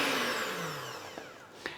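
An electric mixer creams butter with caster sugar, its motor whirring loudly then winding down in falling pitch, followed by a couple of light knocks.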